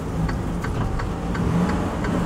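A semi truck's engine rumbles steadily as it rolls onto a weigh scale, a continuous mid-level drone with faint periodic ticks and clunks, heard alone without voices.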